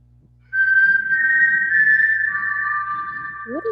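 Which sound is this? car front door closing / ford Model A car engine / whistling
whistling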